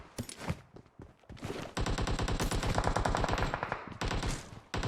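Video game gunfire in a shooter match, including an M4 rifle: rapid automatic bursts, a few single shots followed by a long sustained volley of machine-gun fire, loud and close, with no talk over it.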